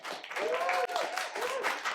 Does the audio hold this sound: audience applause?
yes